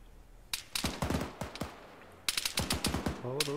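Rapid gunfire from the Arma 3 military game, bursts of automatic shots cracking in close succession, a cluster early on, then a pause and a second dense volley, loud and near.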